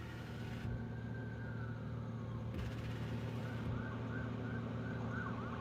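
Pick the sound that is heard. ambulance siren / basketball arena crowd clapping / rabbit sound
ambulance siren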